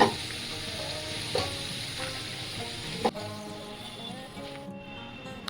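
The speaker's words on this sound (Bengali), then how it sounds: "এবার আমি বেরেস্তাটা ভেজে রাখছি।" Sliced onions fry in hot oil for chicken biryani beresta, giving a steady close sizzle throughout, with occasional scraping clicks as a spatula stirs them.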